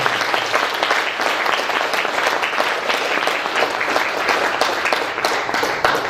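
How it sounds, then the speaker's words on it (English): Steady, dense applause from a large convention audience for the national chair, loud and continuous clapping filling the hall for several seconds. "How about another round of applause for our national chair?"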